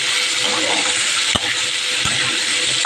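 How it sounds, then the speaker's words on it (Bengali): Sweet potato and pumpkin sauté in mustard oil with panch phoron. A steady, loud sizzling hiss runs throughout, broken by a couple of brief knocks from stirring. "সর্ষের তেল দিয়ে পাঁচ ফোড়ন ফোড়ন দিয়েছি দিয়ে এই যে আলু মানে রাঙা আলু আর কুমড়োটা একটু কষিয়ে নিচ্ছি"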